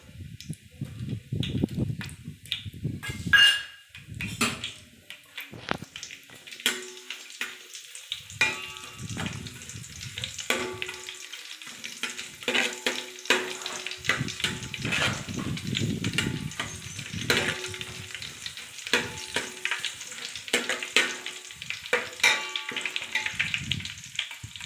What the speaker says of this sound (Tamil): பச்சை மிளகாய் போட்டுக்கோங்க.